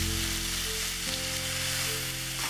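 Half a kilo of boneless chicken sizzles in a pan with onion and capsicum, a steady, loud frying hiss running unbroken throughout, with no talking.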